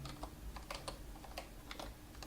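Typing on a computer keyboard, a quick irregular run of soft clicking keystrokes at close range over a low steady background hum, with no talking.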